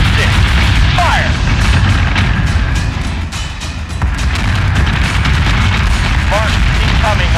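Starship weapons fire in Battlestar Galactica: a loud, dense barrage of deep booming blasts rolls on almost without pause, with brief whooshing streaks overhead and a short dip in the middle.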